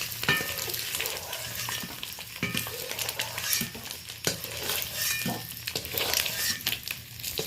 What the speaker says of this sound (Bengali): হালকা করে ডিমগুলো আমি ভেজে নিয়েছি।